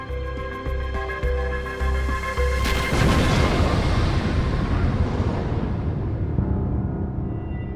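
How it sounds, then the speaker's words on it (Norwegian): Transformer oil tank blowing up during sabotage of a factory: after a few low rhythmic thuds, a heavy broadband boom bursts out and rolls into a long rumbling roar that slowly fades, loud and without voices. "Da transformatorens oljebeholder eksploderte"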